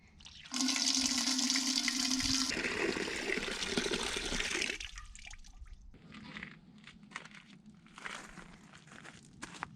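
Water pouring into a shower water pot on an off-grid homestead, a loud steady gush that shifts tone partway through, then a quieter trickle and dripping with some handling noise.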